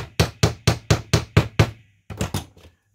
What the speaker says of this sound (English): I'm going to use a hammer here.